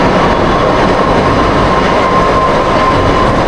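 A Kolkata Metro Blue Line train stands at an underground platform, giving off a loud, steady rumble with a faint electrical hum held throughout, and no voices are heard.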